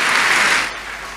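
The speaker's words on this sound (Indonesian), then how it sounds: "Boleh berikan tepuk tangan yang paling meriah buat Tuhan." Church congregation applauding during a sermon, a dense wash of clapping that starts loud and fades somewhat after half a second, with no voices over it.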